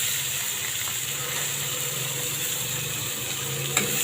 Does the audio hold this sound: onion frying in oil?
yes